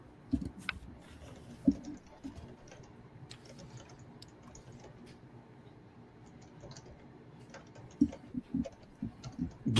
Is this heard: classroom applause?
no